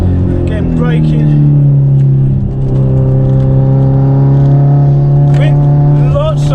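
A turbocharged Subaru Outback XT wagon with a big turbo pulls out of a corner, its engine giving a loud, steady, droning hum from inside the car, with a voice talking over it.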